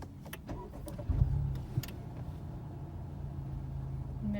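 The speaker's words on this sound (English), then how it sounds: "we're just gonna go ahead and start the car" 2016-2021 Honda Civic engine starting: a brief starter crank and catch around the one-second mark settles into a steady, fairly quiet idle that continues to the end.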